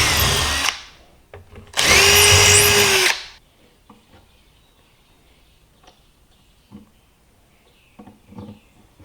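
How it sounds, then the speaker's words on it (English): Power drill boring holes through a wooden tool box stand: two loud whining bursts, the second longer and rising in pitch, followed by quiet knocks and handling of wood. "And drill these holes all the way through"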